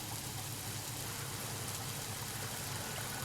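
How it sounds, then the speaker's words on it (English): Video game rain pours steadily as a dense, even hiss of falling drops, constant and fairly soft with no voices. "Cool rain effect, though."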